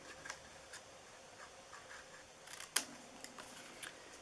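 Scissors snip through paper while a Valentine treat box is trimmed, a series of quiet, close, crisp cuts at irregular intervals with one sharper snip partway through.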